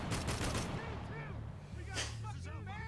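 Sniper rifle shots in the war shooter Spec Ops The Line ring out amid dense game gunfire and explosions, with repeated sharp cracks over a rumbling battle bed while voices talk throughout.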